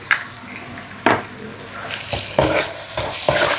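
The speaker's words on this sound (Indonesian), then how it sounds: "Kita aduk." Fried ingredients stirred in a pan, heard as a crackling sizzle broken by several sharp scraping strokes, close and fairly loud, with the frying building stronger toward the end.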